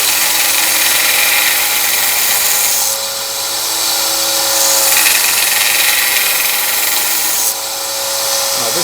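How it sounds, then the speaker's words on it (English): A belt sander fitted with a coarse belt runs continuously over wood at close range, a loud abrasive roar whose pitch dips briefly twice as pressure shifts. "Now this sandpaper is a lot coarser than what I wanted to use."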